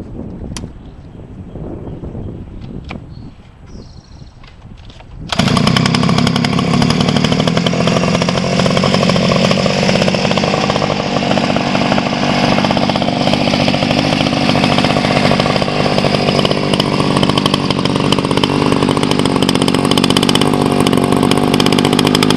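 Chinese Baja DR 50cc two-stroke motorcycle engine bursting into life after quiet handling noises, then running loudly and continuously with a raspy, buzzing drone close to the microphone.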